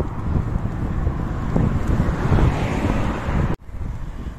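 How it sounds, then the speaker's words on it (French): Strong coastal wind buffets the microphone during a mountain bike ride near Almería, Spain, in a loud, continuous roar with gusty surges, cutting off abruptly near the end. "Voilà, comme prévu, le vent, il souffle"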